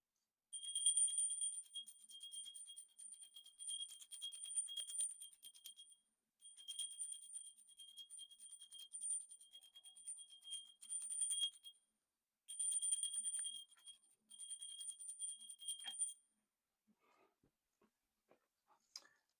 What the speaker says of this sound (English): To cleanse the space, today we'll be using the bell.